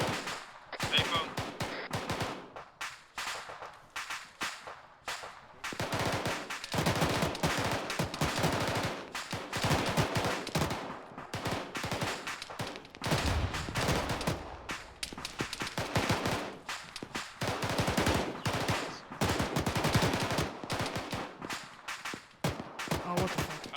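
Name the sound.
gunfire in the video game Arma 3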